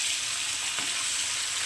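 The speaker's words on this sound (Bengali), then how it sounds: "মাছটাকে এবার উল্টে দেবো, হালকা ভেজে নেবো।" Hilsa fish pieces fry in hot oil in a pan, giving a soft, steady sizzle heard close up with no talk.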